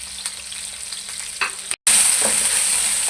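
Fresh peeled garlic cloves fry gently in a pan of oil while being stirred, a soft steady sizzle that jumps to a louder, brighter hiss after a brief cut.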